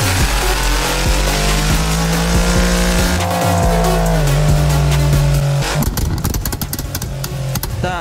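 A Mercedes CLS63 Brabus tuned to 900 HP roars loudly nearby, its engine revving and climbing through rising and falling pitch sweeps with crackling bursts toward the end, no voices over it.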